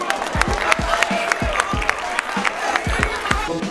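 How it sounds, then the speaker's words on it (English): Audience applause and cheering for a winner receiving a prize, a continuous wash of clapping from a crowd mixed with a steady thumping low beat. "a big round of applause"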